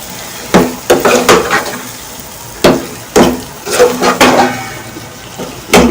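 Spoon scraping and stirring green pea chutney in a pan, a series of uneven clattering strokes over a soft sizzling background, close and loud with no talking.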